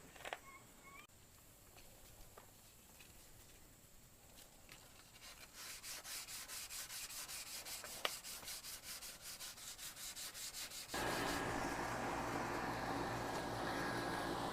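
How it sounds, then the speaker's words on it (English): Sandpaper rubs over a car's damaged paint in quick back-and-forth strokes, rhythmic scratchy scrubbing that grows louder and more continuous as the work goes on. "now we've gone through 3 grits of sandpaper. We've gone through 150, 220, and I finished it off with 400."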